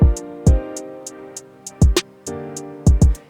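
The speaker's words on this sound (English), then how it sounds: "From there, we added a closed hi-hat, and that pattern is super simple." Closed hi-hat ticking in a simple steady pattern on a produced hip-hop beat, sitting over booming kick drums and a snare hit, bright short clicks repeating evenly.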